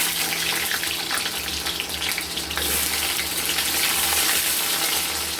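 Hot oil in a wok sizzles and crackles steadily around frying potatoes, a dense close hiss with a low hum underneath and no talking.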